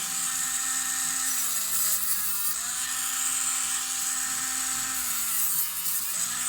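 A grinding disc whines steadily against the edge of a silverplated butter knife being shaped into a feather, a bright, high-pitched continuous grind with slight pitch wavers as pressure shifts.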